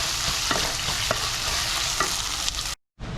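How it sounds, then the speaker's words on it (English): Garlic paste, with ginger paste, sautéing in a pan, a loud, continuous sizzle broken by regular scraping strokes of stirring, then a brief drop to silence near the end. "Keep sauteing it for 3 to 4 minutes till all the raw smell goes."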